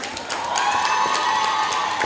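Audience applause and cheering for performers at a college cultural diversity event, a loud, dense burst of clapping with shouts from the crowd, sustained throughout.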